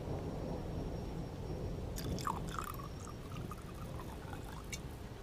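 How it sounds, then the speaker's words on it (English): A drink is poured into a glass partway through, a short gurgling splash with a rising tone over a quiet background hiss. "allow me to pour your drink for you."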